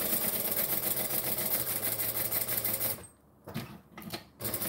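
A sewing machine stitching along the edges of reptile-print fabric, a dense, fast mechanical whir for about three seconds that then stops, followed by brief bursts of slower stitching and handling noises.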